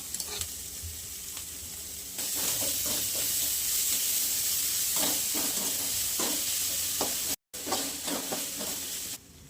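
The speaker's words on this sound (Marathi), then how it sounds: "हे कमी तेलातच परतवून घ्यायचं बघ, त्याच्यात जास्त तेल नाही टाकायचं" Vegetables with crushed ginger and garlic fry in a little oil, a steady close sizzle broken by repeated scraping stirs of a spatula in the pan, briefly cut off near the end before resuming.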